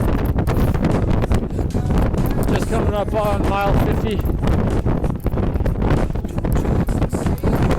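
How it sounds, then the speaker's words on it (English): Strong wind buffets the microphone throughout on open salt flats during a 100-mile race, a constant low roar under a person speaking close by. "It's windy."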